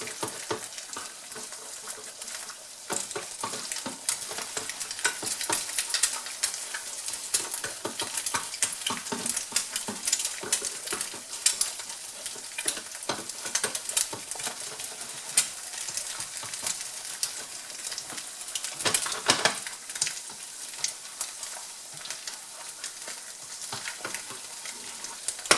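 Breton buckwheat galettes sizzle loudly and continuously in a hot pan, with scraping as they are stirred and loosened from the bottom. No one speaks.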